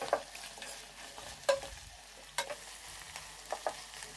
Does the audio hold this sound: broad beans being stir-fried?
yes